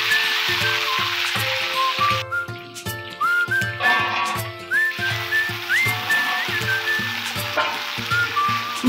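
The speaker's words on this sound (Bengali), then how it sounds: "এবার আমাদের ডাল ফোড়ন দেওয়া হবে।" Spices crackle and sizzle loudly in hot oil while tempering fish-head dal, with a steady frying hiss, sharp pops, and clinking of a utensil against the pan throughout.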